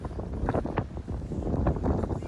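Wind gusts buffet the microphone outdoors in Iceland, producing loud, uneven rumbling bursts that swell and fade continuously over the short stretch.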